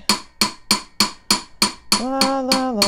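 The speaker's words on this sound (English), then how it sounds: "I'm just gonna hammer away" Sharp metallic hammer strikes on a metal ring being resized ring out at a steady rhythm, about nine blows close up, the later ones leaving a bright sustained ringing tone.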